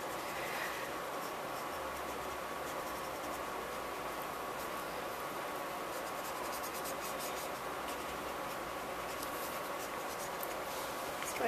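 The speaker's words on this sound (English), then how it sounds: "And then I'm just shading in the fabric folds." A pencil shades fabric folds in a manga drawing of a dress, giving a soft, continuous scratchy rasp close by. The quiet scraping of graphite on paper runs steadily throughout, with no voice over it.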